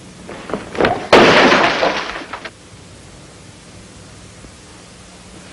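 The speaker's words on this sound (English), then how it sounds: "That glass was traveling about 50 miles an hour when it left my hand. Look, at all those broken pieces." A drinking glass hurled by hand shatters with a loud, close crash and a burst of breaking shards, tinkling pieces trailing off over about a second before quiet room tone returns.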